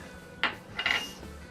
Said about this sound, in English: In goes the sugar. Let's stir that in.